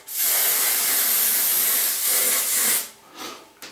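A hairspray can hisses in one continuous loud spray for nearly three seconds onto a styled undercut haircut, followed by a shorter, fainter burst.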